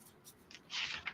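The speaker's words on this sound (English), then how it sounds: "shuffling the Leonardo da Vinci deck here" A Leonardo da Vinci card deck is shuffled in short, soft bursts, with brief papery riffles and a louder rustle near the end, close and quiet.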